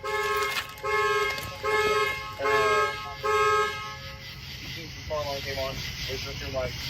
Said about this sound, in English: Was that you that just turned on the alarm?